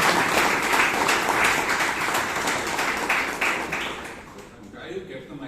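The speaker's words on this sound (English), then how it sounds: "please give Karunakar a big round of applause." A Toastmasters club audience in Bangalore gives Karunakar a round of applause, dense clapping that carries for several seconds and fades near the end, with speech mixed in.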